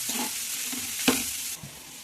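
Cauliflower hits hot oil already seasoned with spice paste and turmeric, giving a sharp sizzle, then hissing frying with a few stirring scrapes of the spoon, close by and with no talking.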